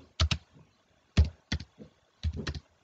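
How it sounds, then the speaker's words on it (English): Keys on a computer keyboard are typed in short, quiet bursts of clicks with pauses between them while entering a school name into an Excel spreadsheet. "So here I just type in"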